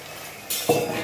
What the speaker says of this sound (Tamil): ஒரு மணி நேரத்துக்கு முன்னாடி ஊற வச்ச சிக்கனை இதில் போட்டுடலாம்